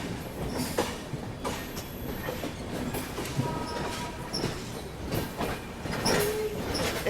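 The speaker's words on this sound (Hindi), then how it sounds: "हम लोग जो है डायमंड क्रॉसिंग को पार करके" Passenger express train clattering across a diamond railway crossing, heard from inside a coach as a steady rumble with irregular wheel clunks and brief squeals, continuous and fairly close.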